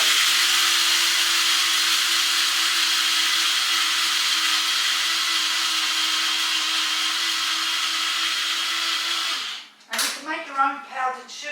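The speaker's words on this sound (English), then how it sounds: "So we've got our oats here, and we do the same thing. So you just grind it up." An electric grinder milling oats into flour runs close and loud as a steady high whir for about nine seconds, then cuts off, and a person begins speaking.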